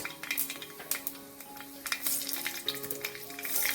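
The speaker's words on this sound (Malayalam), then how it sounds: "കടുക് ഇതാ പൊട്ടി വന്നിട്ടുണ്ട് അപ്പോൾ നമുക്ക് ഗ്രാമ്പു പട്ട ഏലക്ക എന്നിവ ഒരല്പം ചേർത്ത് അത് മൂത്ത് വരുന്ന സമയത്ത് തന്നെ അര ടീസ്പൂൺ പെരിഞ്ജീരകം ചേർത്ത് കൊടുക്കാം" Mustard seeds, cloves, cinnamon, cardamom and fennel fry in hot oil for tomato rice, giving a close, quiet crackling sizzle with frequent sharp pops and light spoon clinks.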